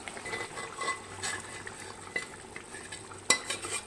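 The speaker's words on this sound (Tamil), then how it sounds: "வேக வச்சுருக்க மட்டனை இதில் கொட்ட போகிறோம்" Cooked mutton is tipped into masala in a pan for Kovilpatti mutton varuval and stirred, producing a low sizzle with scattered spoon scrapes and one sharp metallic knock near the end, quiet and close.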